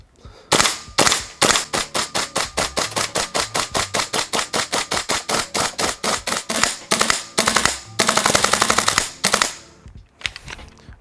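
KWA LM4C gas-operated airsoft rifle firing about forty loud, sharp shots close by, mostly in an even semi-automatic rhythm, with a denser rapid cluster near the end and a final few spaced shots.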